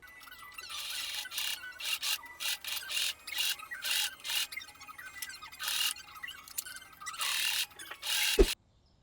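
A sewing machine stitching a cuff onto the sleeve of a cotton blouse, with rapid whirring bursts of needle action broken by short pauses, close and clear, ending with a single sharp knock.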